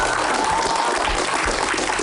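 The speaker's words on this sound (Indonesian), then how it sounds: "boleh kasih tepuk tangan dong" Studio audience applause on an Indonesian television charity show: a dense, steady wash of clapping that holds at an even level for about two seconds with no voices over it.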